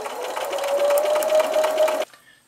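A sewing machine stitches a table runner in one steady, fast whir for about two seconds, close and clear, then stops abruptly, leaving near silence.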